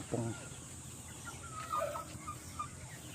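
Two-month-old Rhode Island Red chickens clucking nearby in short irregular bursts, a few soft calls scattered over a quiet background, with faint talk in the mix.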